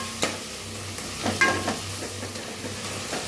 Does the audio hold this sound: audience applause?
no